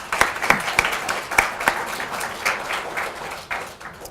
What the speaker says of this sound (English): so if we could just give him a round of applause.